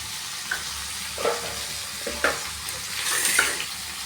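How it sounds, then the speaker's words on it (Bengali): Pieces of taro and potato frying in oil in a pan that has just fried crab, a continuous sizzle broken by several spatula scrapes and stirring knocks, close and moderately loud, no talking. "এবার কচু আলুগুলো ভালো করে ভেজে নেবো"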